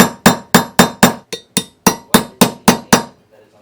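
A hammer drives a punch to force a tight pin out of a Colt Python revolver frame, about a dozen sharp metallic strikes in a steady rhythm, close and loud, then stopping.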